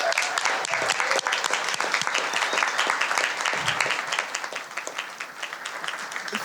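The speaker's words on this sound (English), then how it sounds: "Can we clap it up for Dominic?" A large crowd applauds steadily, dense clapping filling the space at a strong, even level with some cheering mixed in.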